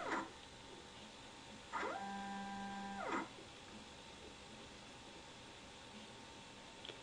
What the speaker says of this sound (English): Sample stage and needles are moving automatically.